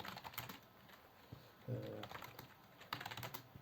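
Soft, quick keystrokes on a computer keyboard as a Flutter package-add command is typed, a faint run of close clicks in bursts with brief pauses between them.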